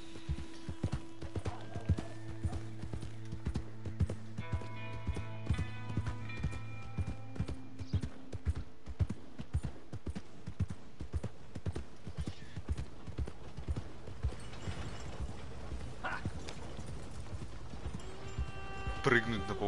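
Horse hooves clip-clopping in Red Dead Redemption 2, steady rhythmic footfalls on a town street with an occasional whinny, set under game music tones and ambient noise, fairly quiet throughout.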